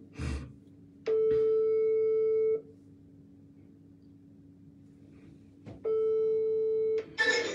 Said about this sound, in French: Attends un peu, Carlos m'a appelé. Attends, je vais juste demander.